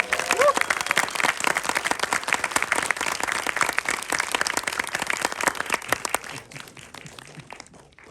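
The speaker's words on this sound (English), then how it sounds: "Big applause" A festival audience at a documentary Q&A in a Toronto cinema gives loud, sustained applause with distinct individual claps, tapering off near the end.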